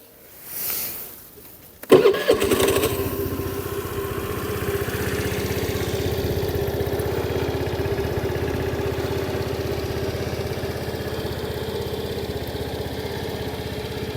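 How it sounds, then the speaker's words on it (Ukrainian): A Honda Dio AF68 scooter engine sputters to life after a brief rustle, then settles into a steady, close idle that runs on evenly with a low throbbing hum. "Двигун працює без жодних нарікань."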